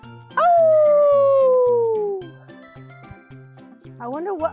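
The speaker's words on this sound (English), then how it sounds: "Wolves make the sound" A long, loud wolf howl rises and slowly falls over a repeating rhythmic pulse of background music, followed by a short bright trailing call, in a cartoon-style animal sound effect.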